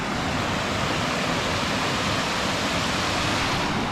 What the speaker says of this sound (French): On est à la cascade de Tahiti.